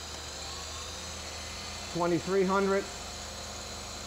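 A Technica ZSM 5100 center hole grinder has its wheel spinning with a steady, even high whine throughout, while someone briefly speaks over it near the middle.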